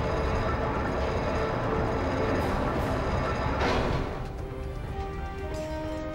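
A train rumbles and clatters in the Ratchet and Clank: Tools of Destruction game, a loud rolling drone with a sharp bang partway through before the noise eases slightly.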